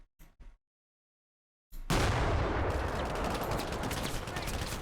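A T90 tank fires on spotters in the war game Combat Mission: Black Sea, with a brief voice, a short silence, then a sudden loud blast rolling into sustained heavy gunfire and rumbling that fills the rest.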